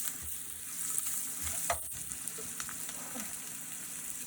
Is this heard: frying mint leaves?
yes